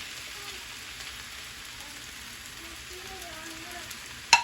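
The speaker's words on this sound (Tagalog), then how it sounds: "Akin lang po itong stir fry ng konti." Bottle gourd with fish and coconut being stir-fried in a pan, a steady soft sizzle running throughout with faint talk underneath.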